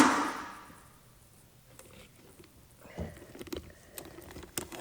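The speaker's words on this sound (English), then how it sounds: "Water it in." Water poured over soil in a mini greenhouse seed tray, a soft patter and trickle that starts after a quiet stretch and continues unevenly, close and fairly faint, with no talking.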